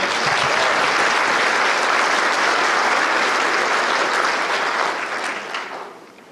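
An audience applauds steadily at a Chamber of Commerce annual awards event, a dense wash of many hands clapping together that holds for several seconds, then fades out toward the end.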